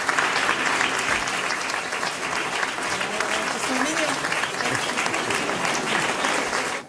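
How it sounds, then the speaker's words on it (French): Sustained applause from a group fills the space, dense and steady clapping that fades at the very end. "Autre réaction sur les applaudissements des collaborateurs."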